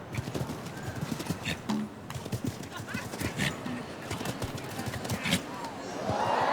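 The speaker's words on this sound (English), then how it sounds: "This is a funny little horse, though, Utah." A show jumping horse gallops over jumps at an outdoor competition, with fast, driving hoofbeats and occasional snorts throughout, moderately close, alongside a low background murmur.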